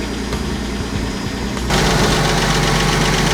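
A Porsche Boxster S 986 engine idles with a slight mechanical clatter, a steady close rumble that steps up louder partway through, with no talk.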